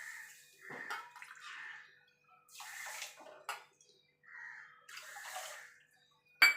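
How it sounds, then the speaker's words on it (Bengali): Water is poured in several separate bursts into a wok holding sugar to make syrup, each pour a close splashing gurgle with quiet pauses between. "দিয়ে দেবো 3 বাটি জল"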